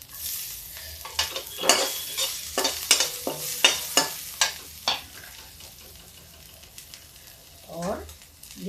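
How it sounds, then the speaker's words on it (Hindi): Garlic hitting hot oil with cumin already in the pan on a low gas flame, a series of sharp sizzling bursts and stirring scrapes that fade to a quieter crackle, with a brief voice near the end. "अब इसमें हम डाल देते हैं लहसुन"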